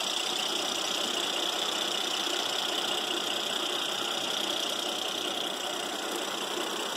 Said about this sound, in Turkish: Araç bitti, çalıştırıyoruz.